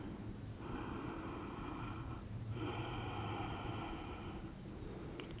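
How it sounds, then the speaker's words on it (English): Slow, deep breaths taken in the yin yoga sphinx pose: two long, airy inhale-exhale cycles through the nose, heard close and quiet against a soft background hiss. "3 deep breaths"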